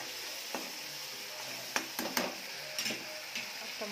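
A spoon stirs chana dal with vegetables in a pan over a quiet sizzle, giving several scattered clinks and scrapes against the metal.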